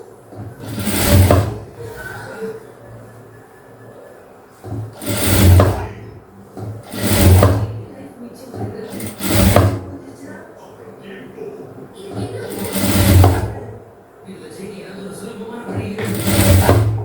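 A sewing machine stitches a pleated frock in six or so short bursts of rapid whirring, each a second or two long, separated by pauses where someone talks.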